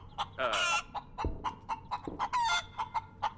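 Close, clear chicken clucks from the space game Breathedge repeat in a quick irregular rhythm, broken by two louder squawking cackles.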